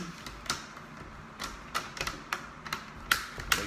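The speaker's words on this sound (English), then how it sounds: "all you do is snap the bezel back in" Plastic bezel of an ASUS ROG GL551JX laptop screen snapping back into place, a series of sharp, close clicks spaced irregularly over a quiet background.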